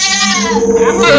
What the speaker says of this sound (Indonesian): Dan kambing itu dia berteriak